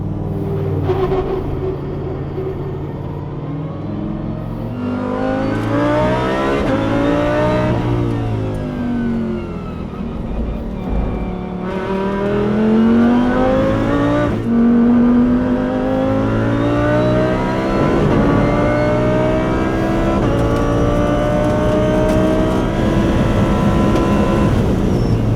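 A Lamborghini laps the Mugello circuit with its engine loud and close, revving up and down through gear changes in long sweeping pulls with a constant roaring rumble.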